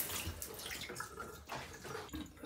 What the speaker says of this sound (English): secured the drain hose right here. It will start flushing every time the system is on.